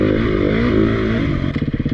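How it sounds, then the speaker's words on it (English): Beta 350 RR Race Edition dirt bike engine revving hard and close, a steady high-pitched buzz that rises and falls, then breaks into choppy pulsing blips near the end. "Next up, we've got the 350 RR Race Edition. listen to the peppiness."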